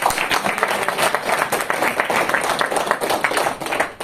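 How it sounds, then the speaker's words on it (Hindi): Loud, dense applause and clapping from a crowd for Djokovic, sustained and fairly close, with individual claps standing out in an even wash and no talking over it. "तो योकोविच के लिए जोरदार तालियां तो होनी चाहिए"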